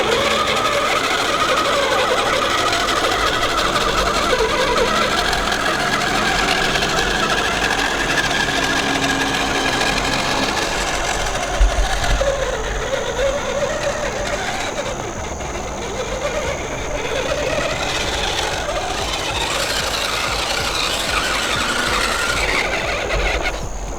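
A custom 6x6 RC crawler with a 3D printed chassis drives along, its small electric motor giving a steady, continuous whine and buzz close by with slight shifts in load, and no talk over it.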